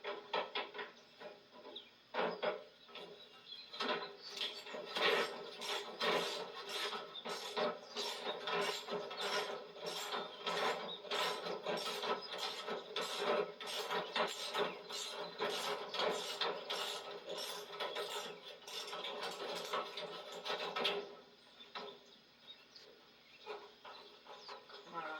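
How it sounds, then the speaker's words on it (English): A wrench works loose a double nut holding the gas tank and false bottom on a 1957 John Deere 620 tractor, giving a long run of fast, steady ratcheting clicks up close, with quieter pauses at the start and end. "Unbolting that double nut."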